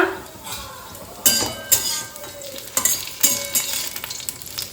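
Food sizzles in a pan with tomato, mustard, poppy seed, green chilli and ground spices: a steady frying hiss broken by several sharp utensil scrapes and clinks against the pan, close by, with no talking.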